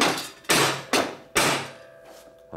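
Four sharp hammer blows on metal ring out with uneven spacing, each striking hard and decaying with a metallic ring, followed by a fainter tap, during repair of a 1942 Harley-Davidson WLA springer fork.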